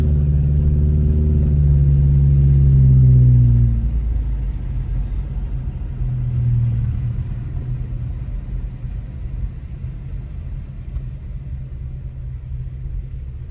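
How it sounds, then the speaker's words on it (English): Passing road traffic near snowy Big Bear, California: a loud vehicle engine rumble swells and fades over the first four seconds, another softer pass follows, then a steady low hum of distant cars. "Traffic, traffic, traffic."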